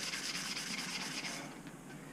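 Sandpaper worked by hand across a dented chrome part being prepared for brush-on nickel plating, a steady soft rhythmic rasping scrub that eases off toward the end, quiet and close with no voices.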